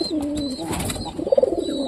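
A domestic pigeon brooding on its eggs in a nest gives a short, low cooing burst near the end of a quiet stretch, close by and fairly soft, with faint rustling around it.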